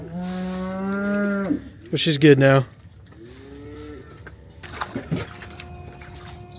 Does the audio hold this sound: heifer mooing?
yes